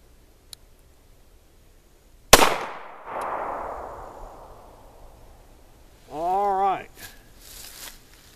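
A single sharp, loud revolver shot fired outdoors, followed by a long decaying rumble as it echoes away; a voice speaks briefly a few seconds later.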